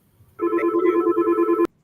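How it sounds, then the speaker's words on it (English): A telephone rings once in a short electronic burst of steady tones, loud and close, cutting off abruptly after about a second with quiet background before it. "y'all go ahead and answer that phone"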